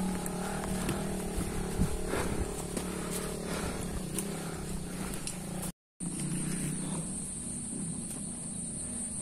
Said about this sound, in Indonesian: Itu masih kedengar suara motor warga lokal